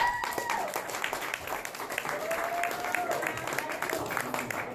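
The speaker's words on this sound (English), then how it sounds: "Please give Miss Leila Steinberg another round of applause" Live-performance audience applauding and cheering in a steady wash of claps, with faint voices and whoops rising through the crowd noise.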